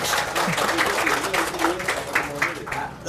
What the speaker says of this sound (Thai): ปรบมือให้อาจารย์ครับผม